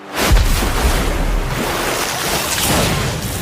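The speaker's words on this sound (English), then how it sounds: "Water pillar." A water pillar spell surges up from a lake in an anime, a loud, close, sustained rushing roar of churning water with a deep rumbling swell that holds steady throughout.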